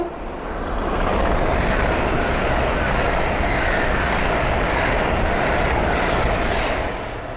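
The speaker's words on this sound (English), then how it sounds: "the next train to pass by is a Hull train 800 going from London King's Cross to Inverness" A Hull Trains Class 800 passes on the East Coast Main Line at Sandy. It brings a loud, sustained roar of wheels and motors that swells, holds steady for several seconds, then begins to fade.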